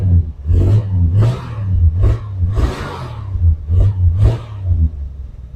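A neglected car's engine idles roughly and is revved repeatedly, about six loud rising bursts in a row, close up with no talking.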